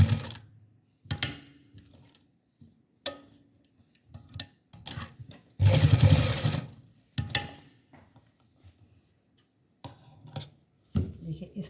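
A sewing machine stitches a crocheted dress for a Ladoo Gopal idol, running in short bursts with a longer run near the middle, close and distinct, separated by quiet gaps.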